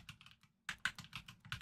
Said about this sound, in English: you're gonna hear typing in the distance